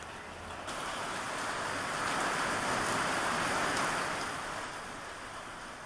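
Unseasonal rain falling during Diwali in Maharashtra, a continuous broad wash of downpour that slowly rises and eases, steady and even with no voices.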